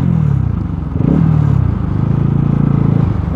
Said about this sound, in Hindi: टक टक टक टक कर रही है बाइक। आई थिंक मुझे लगता है कि अंडरबेली से आ रहा है